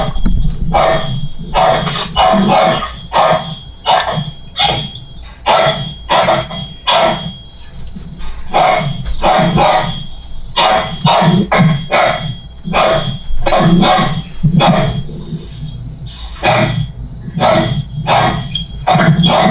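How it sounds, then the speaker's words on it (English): A dog barks near the microphone, loud and repeated in rapid bursts for about twenty seconds, picked up at a board meeting. "Somebody's dog didn't like the report."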